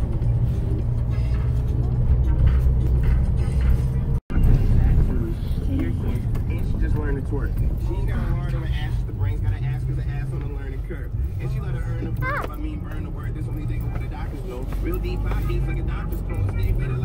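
A car drives along a bumpy road, heard from inside the cabin as a steady low engine and road rumble with one sharp jolt, while someone talks over it.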